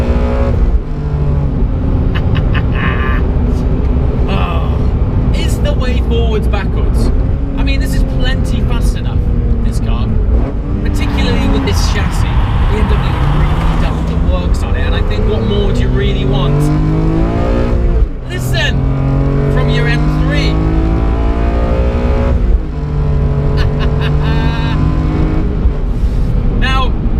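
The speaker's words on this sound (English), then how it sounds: "manifold and air intake is made from carbon fibre, which gives the induction sound this lovely, wonderful, characterful suction" BMW M3 CSL with a carbon fibre intake manifold and air intake, its engine rasping loudly and continuously while revving and pulling hard, the pitch rising and falling through gear changes, with a voice talking over it throughout.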